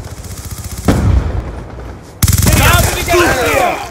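Rapid automatic gunfire in Call of Duty: Black Ops 2, loud close bursts that pause briefly and resume, with a voice speaking over the shooting.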